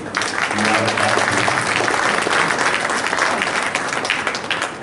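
An audience at an Urdu mushaira poetry gathering in Karimnagar claps for the organisers, a loud, sustained burst of dense applause with voices mixed in, fading slightly toward the end.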